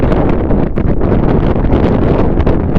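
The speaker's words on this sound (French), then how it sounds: "Malgré le vent, en fait, on n'entend plus." Strong wind buffeting the microphone in loud, continuous gusts, a heavy low roar throughout.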